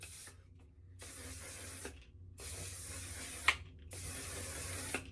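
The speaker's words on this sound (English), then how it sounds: "Finishing touches with the setting spray." Makeup setting spray misted onto a face, in four close, crisp hissing sprays of about a second each, separated by short quiet gaps, with a faint click on one pump.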